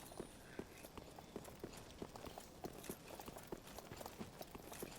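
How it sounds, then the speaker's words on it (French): Hoof-like clip-clop footsteps from passing figures in the Dark Souls 3 video game, a steady run of evenly spaced clopping steps at moderate loudness over a dull in-game ambience, with no talk. "Ils font les mêmes bruits que des sabots de cheval d'ailleurs dans ce passage."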